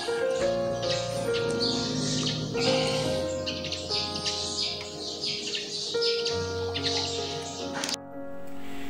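Birds singing in the middle of a forest, repeated high chirps and warbling calls scattered over a steady tonal hum that continues throughout at moderate volume.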